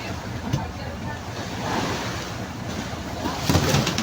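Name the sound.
sea waves and wind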